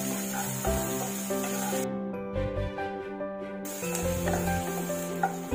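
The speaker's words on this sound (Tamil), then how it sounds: "1 வெங்காயம் ஆகிற வரைக்கும் கொஞ்சம் வதக்கி வச்சுக்கலாம்." Onions sautéing in a pan for Bombay-style spicy bhaji give a soft, steady sizzle and stir throughout, mostly masked by louder background music.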